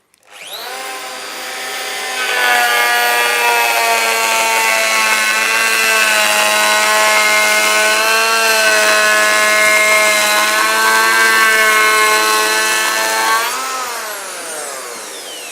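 A Festool EHL65EQ one-handed planer spins up and then cuts a steady 2mm pass along a door edge. It makes a loud, even, high-pitched whine for about ten seconds and winds down at the end.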